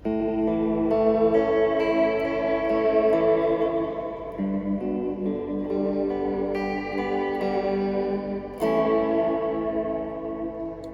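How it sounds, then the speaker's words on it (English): A guitar through a Fender Reflecting Pool pedal set to digital delay with shimmer reverb rings out sustained chords, repeats and a bright shimmering wash trailing each strum, loud and continuous with no talking. "And then now going to switch to digital. So we were still special type 1 shimmer with the delay at analog at 1"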